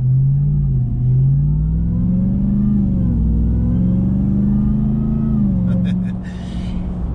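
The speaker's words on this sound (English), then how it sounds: "you hear that nice exhaust in the rear, and it all sounds great" Supercharged Ram TRX pickup truck engine and rear exhaust: a loud, steady low rumble with rising and falling revs throughout, ending in a brief higher whine-like burst near the end.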